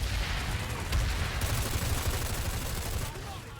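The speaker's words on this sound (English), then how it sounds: "He soaked a lot of bullets there." Video game gunfire in PlanetSide 2: rapid, dense automatic shots in a continuous burst, moderately loud and fairly close, with no talking.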